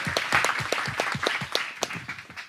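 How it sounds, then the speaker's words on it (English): An audience at a Columbia alumni event on cybercrime gives a round of applause, a steady patter of many hands clapping at a moderate, even level. "So I think they deserve a round of applause."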